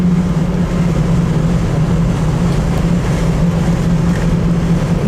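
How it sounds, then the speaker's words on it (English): A 1969 Chevrolet Camaro with its original numbers-matching 307 V8 cruises on the open road, giving a steady, loud engine drone with heavy wind rush and no pauses. "Driving this thing on the open road"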